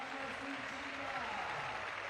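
Crowd at a lead climbing semi-final in Chamonix applauding and cheering in a continuous, fairly distant roar, with a commentator speaking over it.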